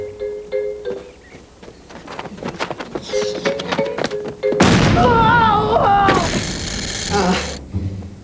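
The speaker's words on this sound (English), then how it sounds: "This is where Robin narrowly escapes the car explosion." A staged car explosion on a film set: a sudden loud blast partway through, followed by roaring and crackling debris, after quieter scattered sounds and faint talk in the lead-up.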